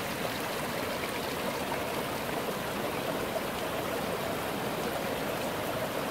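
Cold mountain water pours steadily from a water station in the Antholz valley of South Tyrol, a constant close rushing splash with no pauses.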